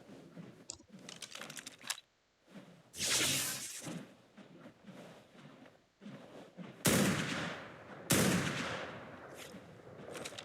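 Gunfire bursts in the Ark Primal Fear video game, several loud blasts with sharp onsets and decaying tails, mixed with quieter clicking and keyboard-like taps between shots.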